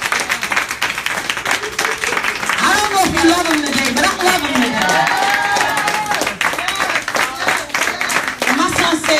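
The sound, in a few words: congregation clapping hands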